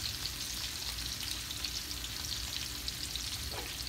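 Salt mackerel sizzles steadily in a hot pan, a continuous close frying hiss that holds level throughout with no voices.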